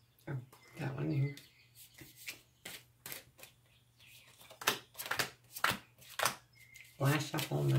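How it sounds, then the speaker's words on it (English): A deck of tarot cards is shuffled in soft, papery riffles and rubs, in several short bursts with pauses between, close and quiet, while a person speaks intermittently over a low steady hum. "Last shuffle on the deck."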